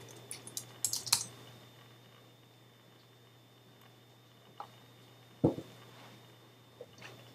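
Typing on a Mac computer keyboard, a quick cluster of clicky keystrokes near the start followed by a few scattered, isolated key taps over quiet background hum.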